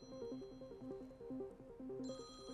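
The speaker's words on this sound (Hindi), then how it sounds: "घंटी बज रही है।" A soft, repeating electronic ringtone melody loops quietly, its short tune cycling several times with a higher tone joining near the end.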